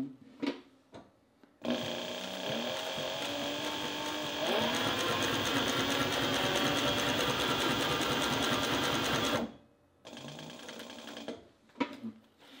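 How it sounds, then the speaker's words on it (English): A Cobra Class 20-2 industrial sewing machine double-stitching scrap leather runs in one steady, loud, fast-rhythmed burst of about eight seconds, with a few soft handling knocks before and after. "Now let's sew some scrap leather and show you what this double stitch looks like."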